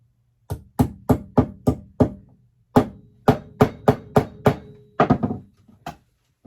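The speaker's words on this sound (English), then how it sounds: "So we're using a hammer to pre-drill." A hammer strikes wood while pre-drilling a table in two quick runs of sharp knocks, about a dozen blows in steady rhythm, close and loud with brief pauses.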